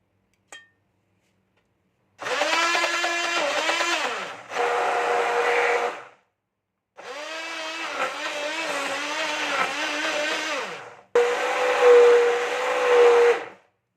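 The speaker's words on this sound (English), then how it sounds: "and whisk again" An electric mixer whisks egg yolks, sugar and vanilla essence into chocolate cake batter, running in several loud, steady bursts with short pauses between and no talking.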